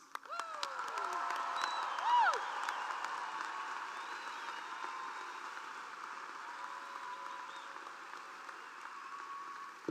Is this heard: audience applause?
yes